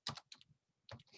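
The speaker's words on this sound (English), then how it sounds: "I'm going to type in factorial" Quiet keystrokes on a computer keyboard, a few soft clustered clicks with a brief gap before another small burst, close and faint.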